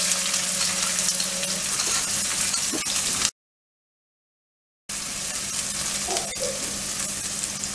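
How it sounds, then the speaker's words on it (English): Onions fry in hot oil with sputtering mustard seeds for spinach khichdi, a steady close sizzle with a few stirring clatters, broken by a brief silent gap midway; no one speaks. "mustard seeds are sputtering now. Now add onions."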